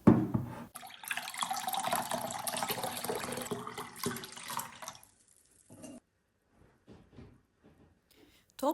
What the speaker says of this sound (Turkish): Yani 800 mililitre su koyuyorum.